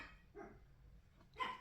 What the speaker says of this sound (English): I'm so sorry if you can hear my dogs barking over there.